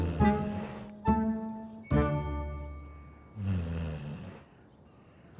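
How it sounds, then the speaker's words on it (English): A sleeping dog snores loudly and close up in a series of long, rumbling, slightly tonal breaths at a slow, irregular rhythm, with pauses between them. "He's snoring."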